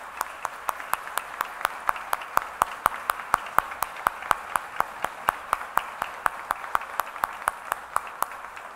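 An audience claps for student helpers at a lecture event in a steady, fast, evenly spaced rhythm of sharp claps that stays at an even level throughout.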